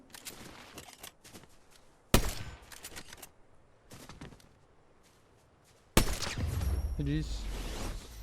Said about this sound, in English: when I was like shooting down on him there, like just free firing without the lock-on effect